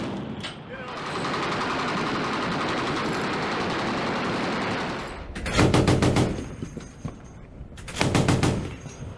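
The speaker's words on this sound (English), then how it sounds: "Gun crews adjust their aim, compensate for the ship's motion, and continue firing in disciplined bursts." Naval ship gun crews fire in disciplined bursts at sea, heard as a long continuous roar followed by two loud, rapid strings of shots with a pause between them.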